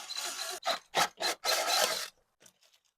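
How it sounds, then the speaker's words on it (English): A hole saw grinds through a plastic cap in several short, harsh bursts followed by a longer stretch, close up, then a few faint scraping taps. "So I'll just drill a hole into this cap and hopefully it all fits."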